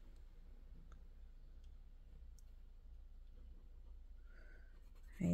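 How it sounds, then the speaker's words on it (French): A pen or marker colours in a small section of a paper budget envelope chart in orange, faint soft scratching and light clicks in a quiet room, ending with a louder bump. "Je vais colorier celle-là aussi en orange."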